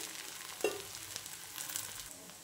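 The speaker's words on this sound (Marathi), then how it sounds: "याला हळूहळू शिजू द्या मंद आचेवर, मग हे आपण कच्चं राहणार नाही।" Thalipeeth cooks slowly in oil over low heat, making a faint, soft sizzle with a few small pops and crackles.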